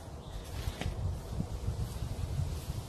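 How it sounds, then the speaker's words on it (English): Steady gusting wind buffets a Big Agnes Tiger Wall UL2 tent pitched outdoors, a continuous low rumble of air against the microphone mixed with soft fabric rustling throughout. "bear with me as the wind blows"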